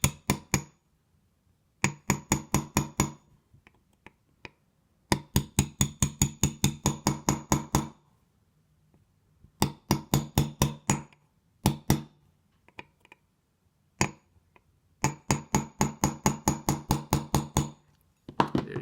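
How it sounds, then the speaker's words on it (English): Metal punch struck with a hammer to seat a part flush in a WE MP5 gas blowback airsoft magazine: bursts of rapid, sharp close taps in quick runs, separated by short pauses, with no talking. "Use the punch to kind of gently knock it into flush so it fits flush."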